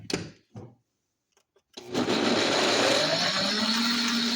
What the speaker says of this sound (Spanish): no hay necesidad de picarlas mucho porque se van a licuar